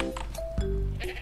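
Goats bleat in ARK: Survival Evolved, two or three short, wavering nasal cries close by, overlapping in quick succession with no talk.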